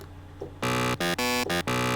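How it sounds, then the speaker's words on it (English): A gritty, buzzy FM synth bass, a distorted square wave, loud and sustained, sounding in several bursts with short gaps between them after a brief quiet start. "distorted the sound of the square wave quite a bit and made it more gritty"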